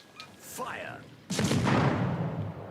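Main guns of a warship in a naval video game go off in a heavy blast about halfway through, its roar rumbling on to the end, after a stretch of quieter game sounds and talk.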